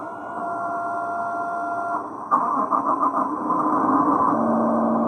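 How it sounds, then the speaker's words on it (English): A toy-like electronic engine sound from a sound board in a Cat 973 track loader model hums steadily, then kicks into a rougher, pulsing idle partway through, with no talking. "Switch B is our engine sound."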